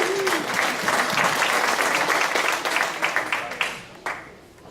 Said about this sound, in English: Round of applause for Janet